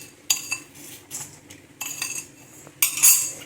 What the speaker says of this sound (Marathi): हे भांडं आपल्याला गॅस ऑन करून त्याच्यावर ठेवायचं आहे